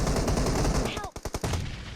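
Video-game gunfire, a fast burst of rapid automatic shots that ends in a few sharp separate cracks, loud and close, with no talking over it.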